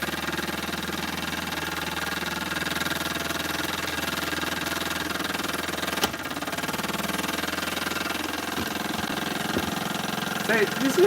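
A small engine runs steadily at an even idle throughout, a constant mid-pitched drone with a brief blip partway, heard close under speech.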